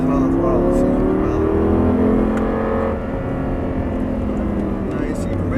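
Audi R8 engine on a track pulling hard out of a corner, a loud steady roar with rising tones as the throttle opens, close and continuous, with a man coaching over it.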